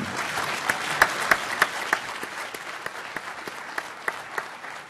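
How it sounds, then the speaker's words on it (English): An audience at a 2018 AUSA panel session applauds steadily, dense clapping with a few sharper claps standing out, sustained throughout. "So how about a round of applause for our panel here?"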